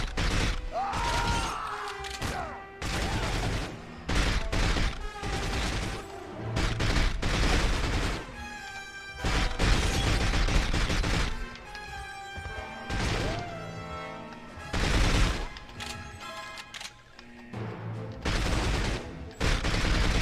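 Gunfire from the 007 From Russia With Love video game bursts out in loud, rapid volleys and single shots, mixed with crashes and mechanical game effects over a droning backdrop.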